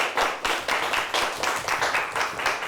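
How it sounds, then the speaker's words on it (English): A round of applause for a Mt. Pleasant quiz team coached by Zach Creswell in a studio audience: a small group clapping in brisk, uneven bursts, close and lively, with no talking. "Let's give them a nice round of applause"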